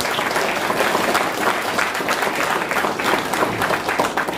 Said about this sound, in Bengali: ওর জন্য একটা জোরদার হাত তালি হোক